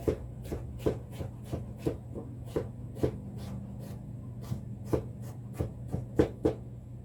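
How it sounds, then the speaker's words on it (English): A knife slices thinly through cucumber on a wooden cutting board, a steady series of crisp, close chops at a quick, slightly irregular rhythm with no talking. "I'm going to run my knife through it really thinly because he doesn't care too much for cucumbers"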